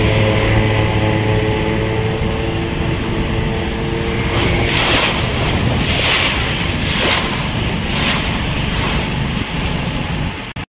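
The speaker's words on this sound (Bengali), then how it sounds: "এই সব হাউস বোটগুলো কিন্তু বেরিয়ে পড়েছে এখন" Houseboats cruise on the Alleppey backwater in Kerala, heard as a loud, continuous rush of water and engine drone with steady wind buffeting the microphone, and no one talking.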